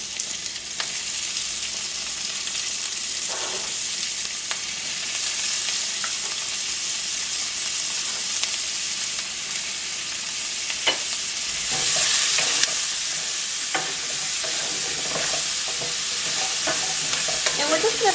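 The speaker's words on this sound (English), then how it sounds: "We're just going to saute our onion until it's nice and soft and starts to turn translucent." Chopped onion sautés in bacon fat in a pan, giving a continuous bright sizzle with occasional stirring scrapes. There is no talk, and the sound stays at a fairly even level throughout.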